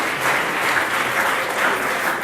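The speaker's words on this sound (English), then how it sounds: "A massive round of applause, ladies and gentlemen." Audience at an awards night applauds an award winner, a full, even burst of crowd clapping close and continuous, with no talk over it.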